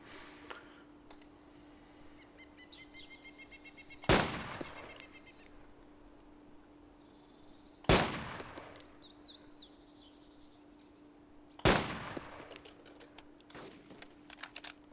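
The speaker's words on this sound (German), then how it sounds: "Ich glaube, ich werde beschossen." Gunfire in the video game DayZ, with three loud, sharp shots at spaced intervals over a quiet background hum and faint clicks and chirps.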